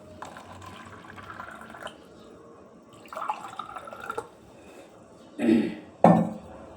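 Water is poured into two containers during a fabric whitener demonstration: soft trickling at first, then two short, louder splashing pours near the end, with no talking.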